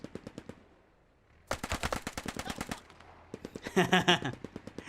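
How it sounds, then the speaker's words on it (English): MP40 submachine gun fire in the realistic multiplayer shooter Post Scriptum: rapid close bursts of automatic shots, a short pause, then a longer burst and another, with distant gunfire mixed in. "The MP40 that Zoid was paranoid about finds him, sprays him down."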